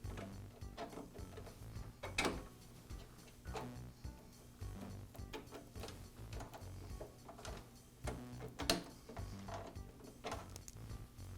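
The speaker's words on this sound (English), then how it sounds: "Now I can pull the sprockets and chain that attach the two rollers together." Sprockets and chain being pulled from the feed rollers of a DeWALT planer under repair, producing quiet, irregular metallic clicks, rattles and ratcheting taps up close with no talking.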